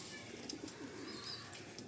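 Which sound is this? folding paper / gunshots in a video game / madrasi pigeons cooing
madrasi pigeons cooing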